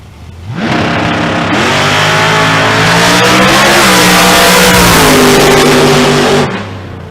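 A Chevy Beretta race car accelerates hard through a lap on an outlaw-series racetrack, its loud engine note climbing through gears in a sustained roar that builds and then fades as it passes.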